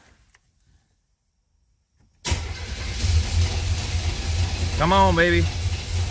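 An old Buick Skylark-style project car in a junkyard, running on old gas, cranks after a silence and catches into a rough idle that keeps struggling; someone speaks briefly over the engine.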